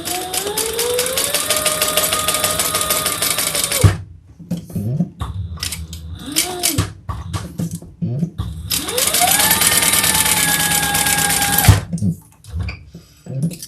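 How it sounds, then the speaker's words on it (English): A sewing machine stitches down each side of a crossbody bag with interfacing layered inside, running in two long, steady bursts with quieter handling noises between them. "So now I'm just going to sew down each side."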